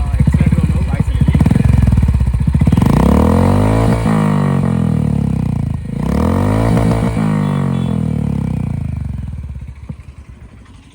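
Close, loud revving from a Royal Enfield Hunter 350 with a Red Rooster exhaust: the engine climbs and drops through a couple of throttle blips, holding a rough, throaty roar before easing off at the end.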